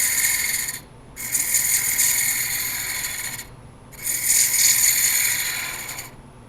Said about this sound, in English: We'll start with the roughing gouge.